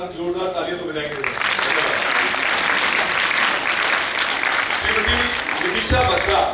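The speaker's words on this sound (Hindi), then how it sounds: "परंतु एक बार हम जोरदार तालियां तो बजाएंगे।" Strong applause from an audience at a Hindi stage show, rising after a short spoken bit and holding steady and loud, with a voice returning near the end.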